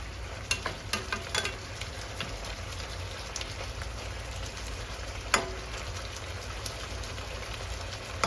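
Bamboo shoots and egg stir-frying in a pan, a steady soft sizzle with scattered scraping stir clicks near the start and one sharper knock midway, quiet and close.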